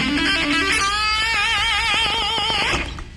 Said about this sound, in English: Try it again with some distortion.